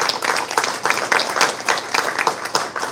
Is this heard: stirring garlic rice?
no